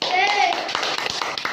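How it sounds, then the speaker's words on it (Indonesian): A classroom of pupils claps hands in a brief burst of scattered claps, fairly soft, with children's voices over the start. "tepuk tangan"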